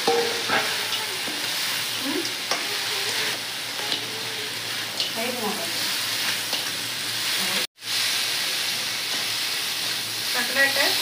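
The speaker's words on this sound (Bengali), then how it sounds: "এখন আমি কাঁকড়াটা দিয়ে দিচ্ছি।" Crab pieces frying with potatoes in spiced masala, a steady sizzling hiss with occasional stirring scrapes and a brief dropout partway through.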